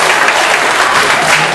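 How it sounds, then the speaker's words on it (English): Loud, dense audience applause at a music performance event, continuous clapping filling the whole moment with no talk. "Let's have a big round of applause for Britanie"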